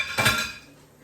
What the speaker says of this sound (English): I'm gonna just take the pan out of the way, put it on a hot pad over here